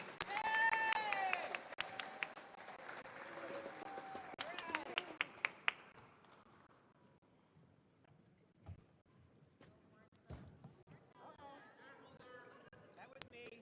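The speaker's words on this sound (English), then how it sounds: "Also give a round of applause for their teams as they come up." Crowd at a college convocation claps for teams walking up, moderately loud applause that fades after a few seconds into quieter room sounds, footsteps and scattered taps.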